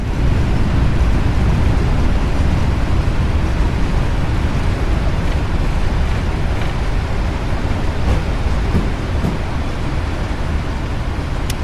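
Boeing 777 thrust reversers roar after landing in a PMDG 777 flight simulator, a loud, dense, continuous rumble that eases slightly over several seconds, with no voices over it.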